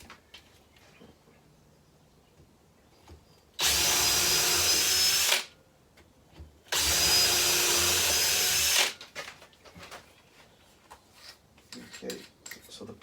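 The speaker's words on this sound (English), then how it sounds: "I'm going to pre-drill 2 holes" A cordless Ferrex impact driver whirs loudly in two sustained bursts of a couple of seconds each while pre-drilling pilot holes, separated by a short pause, with quiet handling sounds around them.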